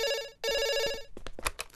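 A telephone rings in two long electronic bursts with a short gap between, then muffled voices and movement follow as the ringing stops.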